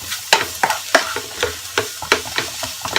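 A turkey seasoning mixture stirred in a pan: a regular series of loud, close scraping strokes, about two per second, over a light sizzle, with no talk.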